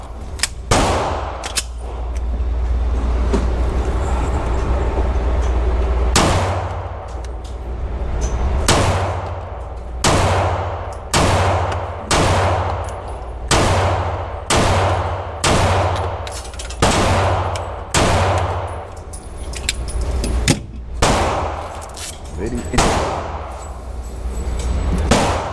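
A Herrington Arms PDP pistol fires a long rapid string of loud, close gunshots, evenly spaced sharp reports with brief pauses, over steady outdoor background noise.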